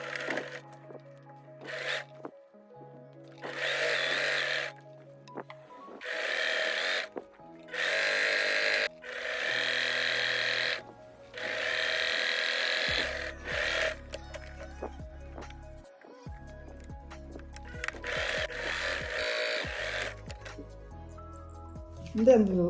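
A household sewing machine stitching a French seam on a pillowcase, running in several short bursts of whirring separated by pauses, with low hums and handling noises between runs.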